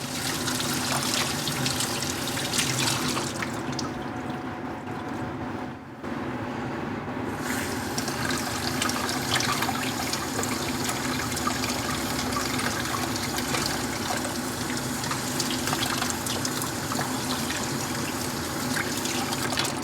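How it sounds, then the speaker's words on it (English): Tap water runs steadily over a surface in the kitchen, a loud, continuous splashing rush that goes on without a break apart from a brief dip partway through. "Run some water over the surface."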